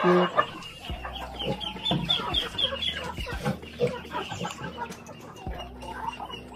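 A mother hen clucks repeatedly in a busy farmyard, with other fowl calling around her; steady, close clucking over a dense background of birds.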